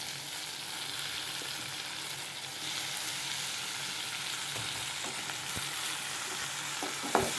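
Tomatoes sautéing with onions in a pan for Tamil thakali pachadi, a steady low sizzle and frying hiss throughout with occasional soft stirring knocks near the end.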